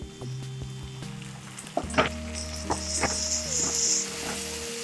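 Chopped tomato sizzles and spits in a hot pan with occasional stirring scrapes, while a low steady hum and tones run underneath.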